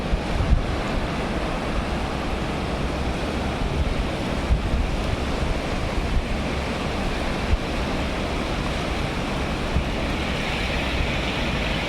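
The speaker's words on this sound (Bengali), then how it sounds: "দেখেন ঢেউ, আমি এখন ঢেউয়ের খুব কাছাকাছি আছি" Sea waves breaking on an Oman shore, heard from very close, with a continuous heavy roar of surf and wind buffeting the microphone throughout and no talk.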